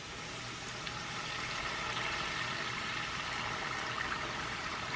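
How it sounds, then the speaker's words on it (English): A taco shell fries in hot oil in a pan, giving a steady, dense crackling sizzle that holds at an even level throughout, close by and with no talking. "right now I'm just frying my taco shell"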